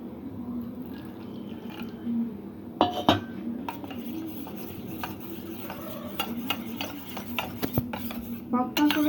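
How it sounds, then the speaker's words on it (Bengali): Half a spoon of cornflour is whisked into water with a spoon, making quick light clinks and scraping taps against the bowl over a low kitchen hum, with a simmering gravy faintly bubbling nearby; no one talks. "এখানে হাফ চামচ কর্নফ্লাওয়ার গুলে নেব।"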